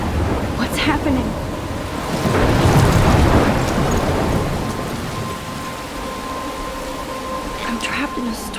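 Stormy weather in the game Life is Strange, with dense rain hissing steadily and a heavy thunder roll building midway before easing back into the downpour.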